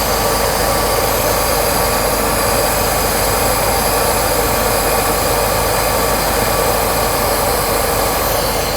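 A Mercedes R129 300SL with a freshly repaired fuel distributor idles loud and steady just after a cold start, its constant roar unbroken and mixed with the running air conditioning.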